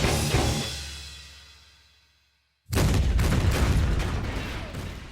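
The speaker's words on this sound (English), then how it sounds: "Another explosion rocked mech warrior Creedon's Hellfire" A loud explosion blast bursts in and rumbles on with crackling debris, after an earlier boom fades into a brief silence, set in a BattleTech battle as a Hellfire 'Mech fights a retreat.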